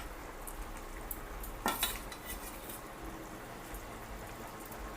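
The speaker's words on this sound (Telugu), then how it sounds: "ఈ టైంలోని చేపలు వేసుకోవాలి మనం" Fish pieces go into a pot of simmering fish gravy, a soft splash and clink standing out once over a low steady background bubble, faint and without talk.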